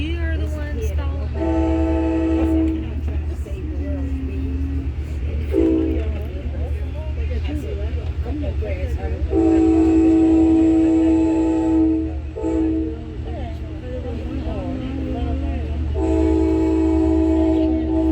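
KCS Macon Local freight train rolling past with a steady heavy rumble, the horn blaring in repeated long blasts, loud and close, with some voices partly audible underneath.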